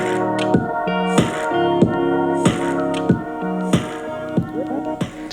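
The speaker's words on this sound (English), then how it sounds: "So as you can hear, it's got a pretty solid round sound, even at 3 on the Amazon Echo Dot with clock." Music plays from an Amazon Echo Dot with clock smart speaker at a moderate volume, with a steady rhythmic beat of regular thumps under sustained tones.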